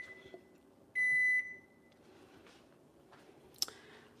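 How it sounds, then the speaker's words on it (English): A single half-second electronic beep sounds in a quiet room, followed by faint clicks and a sharp tick near the end. "So y'all can hear it now, beeping."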